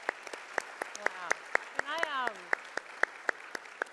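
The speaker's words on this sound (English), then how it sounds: "so this is clapping, is it?" Sharp, evenly spaced single hand claps ring out at a live conference, steady and fairly close, while a voice talks over them in the middle.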